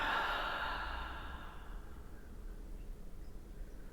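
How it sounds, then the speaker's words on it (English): A slow, audible breath during a yoga strap class: a deep inhale flowing into a long, sighing exhale that is loudest at the start and gradually fades, heard alone without talk. "Take a deep breath in and a long breath out."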